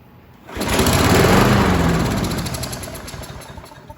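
A Craftsman lawn mower with a 190cc engine, its carburetor just cleaned, is pulled and catches, roaring up loud and close for a couple of seconds before sputtering down as it starts to die.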